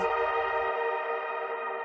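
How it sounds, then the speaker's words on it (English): Electric guitar through two blended reverbs, a frosted reverb and a sci-fi shimmer on a SpaceWalk Saturn pedal: a sustained, shimmering chord washing out in a long, even tail after a brief attack. "And that's how you get those deep reverb tones."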